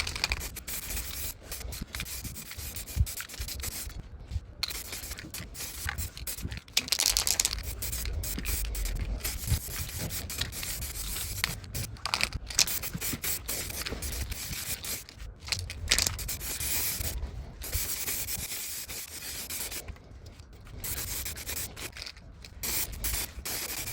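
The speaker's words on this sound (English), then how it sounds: "And after a quick spray, as you can see, we have the primer done" Primer is sprayed from an aerosol can onto original Xbox console parts, repeated hissing bursts of varying length separated by short pauses, close and fairly loud.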